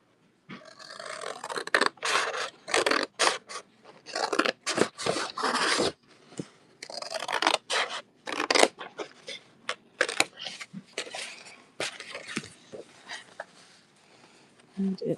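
Scissors cutting paper for a junk journal, heard as repeated close snipping and rasping strokes in uneven bursts with short pauses between, loud against a quiet background.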